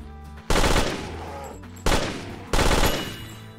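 Three loud, close bursts of gunfire in a survival driving game, each a sudden sharp blast with a rumbling tail, spaced about a second apart.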